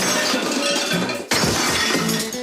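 A toilet is smashed during a home demolition, with a loud crashing shatter of breaking porcelain, a brief pause, then a second heavy impact and scattering debris close by.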